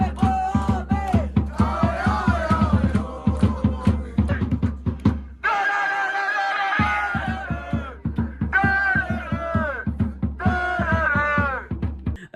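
Falkirk Ultras football supporters chant at a Scottish Cup match, a loud massed chorus of voices over a fast, pounding drumbeat, briefly dropping to a drawn-out sung line before the drumming and chanting resume.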